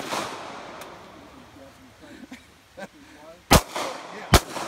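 Two sharp, loud gunshots ring out near the end at a shooting range, with a few fainter pops and distant shots earlier over outdoor background noise.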